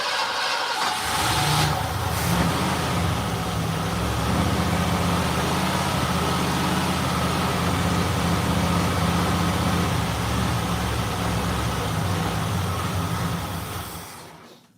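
A car engine cranks and catches after a throttle screw adjustment, then settles into a steady loud idle with a low rumbling drone before cutting off at the end.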